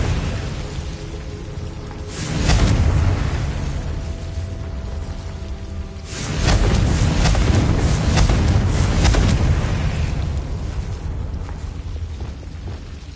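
Two booming blasts from the Confringo blasting spell in Hogwarts Legacy, each a broad loud burst followed by rumbling crackle, the second longer and sustained, with no talk.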